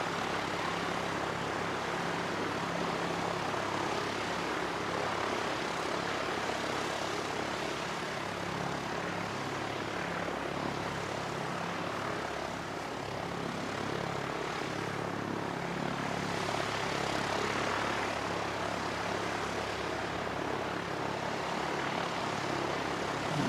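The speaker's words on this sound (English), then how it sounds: "aircraft starting up, so that's what's going to dominate the soundscape for you." Propeller aircraft starting up at the Canterbury Aero Club beside runway 29, a steady loud engine drone with a windy broadband roar running the whole time, no voices.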